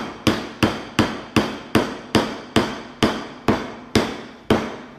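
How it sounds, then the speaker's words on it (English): A small yellow hammer strikes a whole coconut in a kitchen, landing about a dozen sharp, evenly spaced, loud blows, each with a brief ringing decay, with no talking. "taking our little cool little yellow hammer, you hammer down, and things start moving in the kitchen when this happens as well"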